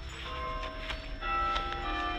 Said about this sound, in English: Church bell.